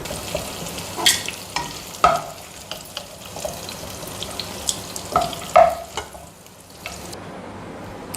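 Bitter gourd is sautéed in oil in a pan with a steady low sizzle. Repeated sharp scrapes and taps from stirring come at irregular intervals, close and fairly loud, with no talking.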